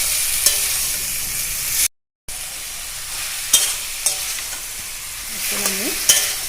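Mutton stirred in a hot pan of spice masala for kosha, a steady sizzle and fry with scattered scraping clicks of the spoon against the pot, close and alone with no talk.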